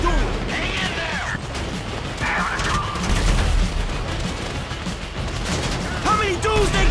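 Gunfire in Grand Theft Auto V crackles and booms under constant talk and background noise, with mechanical clatter and bursts of shooting throughout.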